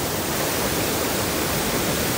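At Bijakasha Waterfall in Bastar, a dense, constant roar of falling water surges nearby and loud, unbroken for the whole stretch with no talk over it.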